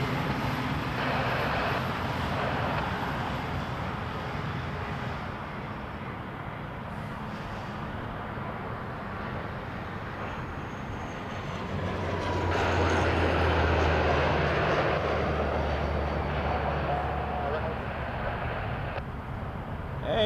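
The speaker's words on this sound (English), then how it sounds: "Jazz 434 coming from Timmins on a Q400" A Dash 8 Q400 turboprop airliner passes at Toronto Pearson airport, its broad engine drone steady at a distance, then swelling louder with a low propeller hum partway through before easing off.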